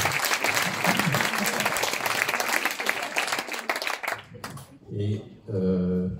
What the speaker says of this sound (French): je pense qu'on peut aussi applaudir les libraires